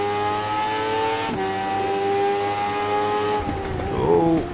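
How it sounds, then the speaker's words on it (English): A Yamaha sports motorcycle engine in the RIDE 3 racing game, a loud high revving whine with gear changes and pitch shifts, rising and then dropping as the bike brakes near the end. "Sounds like a Yamaha behind us."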